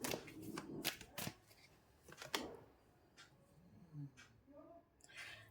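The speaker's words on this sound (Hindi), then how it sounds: "एक कार्ड और लेती हूँ" A tarot card slides and rustles out of the deck during a pick-a-card reading. Soft, close paper shuffling and flicks come in scattered bursts, with quiet speech in the background.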